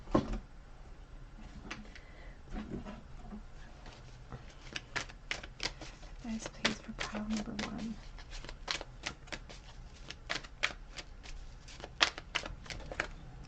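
Tarot cards slapped down and shuffled on a table, a rapid series of sharp crisp snaps and flicks, sparse at first then dense and rhythmic, close and clear with no talking.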